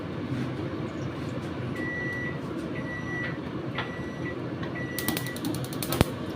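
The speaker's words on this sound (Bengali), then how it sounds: "গ্যাসটা জেলে দিলাম" A gas stove is lit under a kadai holding a little oil, and a quick burst of sharp igniter clicks comes near the end over a steady background hum and faint creaks.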